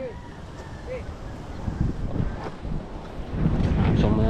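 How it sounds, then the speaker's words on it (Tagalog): Strong wind gusts and buffets outdoors at a house construction site, roaring across the microphone and growing louder toward the end, with bursts of talk mixed in. "Kalakas ba naman ng hangin?"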